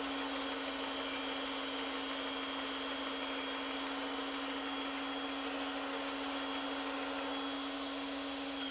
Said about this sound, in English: I can go over to the bandsaw and cut this tapered part right here